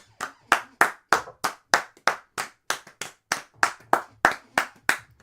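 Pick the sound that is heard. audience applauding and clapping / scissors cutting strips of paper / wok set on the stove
audience applauding and clapping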